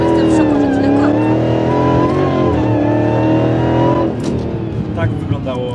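Dodge Hellcat Redeye with 808 horsepower at full acceleration in Warsaw traffic, a loud, steady engine roar rising in pitch, heard from inside the car, with passengers talking over it.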